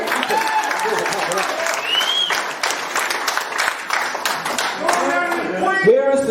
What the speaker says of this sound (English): Come on. Give us a clap for that.